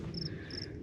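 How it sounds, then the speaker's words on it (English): Crickets chirp faintly in a garden on a spring evening, two brief high trilling bursts over a soft, steady outdoor background hiss, with no voices. "could hear the crickets"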